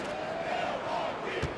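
Home crowd noise fills a Milwaukee basketball arena in NBA 2K24, a broad steady murmur with faint cheering and a brief thud, moderately quiet throughout.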